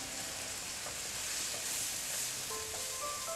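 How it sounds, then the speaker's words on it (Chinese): Eggplant and tomato stir-fry in hot oil in a wok, giving a soft, continuous sizzle with faint scraping touches, steady and quiet. "把茄子倒入里面，继续翻炒"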